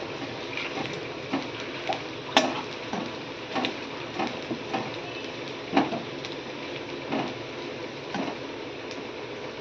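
Nigella seeds (kalo jeere) dropped into hot oil for tempering, heard as a steady close sizzle broken by irregular pops and crackles.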